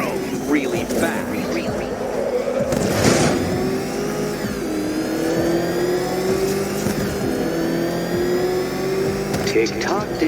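The Batmobile's engine in Batman: Arkham Knight drones and revs continuously, pitch rising and falling, while a voice talks over it in a game scene.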